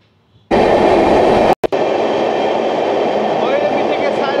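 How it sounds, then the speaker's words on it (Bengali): A train pulls out of Bairabi Junction station platform on the route toward Sairang, a loud steady rumble of wheels and carriages starting abruptly and rolling on close by. "দেখতে পাচ্ছেন ফাইনালি বাইরবি জংশন স্টেশনের 1 নম্বর প্ল্যাটফর্ম থেকে ট্রেনটি ছেড়ে যাচ্ছে।"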